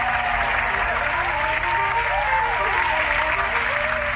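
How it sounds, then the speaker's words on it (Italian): A concert audience applauds the maestro Jacob Myers, a dense, even wash of clapping over a low steady hum, with faint tonal voices drifting through it. "Signore e signori, un grande applauso per il maestro Jacob Myers!"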